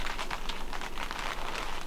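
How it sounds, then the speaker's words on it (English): Steady rain patters on a blue plastic tarp at an off-grid tiny home build site, a dense, even crackle of drops with no pauses, moderately loud and close. "It's the sound of rain on a blue tarp."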